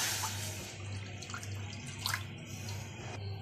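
Water runs and splashes steadily into a glass, a continuous close trickle with small bright splashes, alone without talk.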